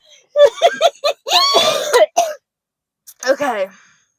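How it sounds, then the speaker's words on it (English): A person coughs and clears their throat in several harsh bursts up close, followed by one more brief cough after a pause. "That was a good cough"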